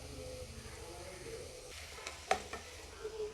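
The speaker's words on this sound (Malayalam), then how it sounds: "സവാള ചെറുതാക്കി എരിഞ്ഞിട്ടതും പച്ചമുളകും കറിവേപ്പിലയും കൂടി ഇട്ട് കൊടുത്തു ഇത് ഇളക്കാം" Chopped onion, green chili and curry leaves sizzle softly in a pan while a spoon stirs them, with a few brief scraping clacks of the utensil against the pan.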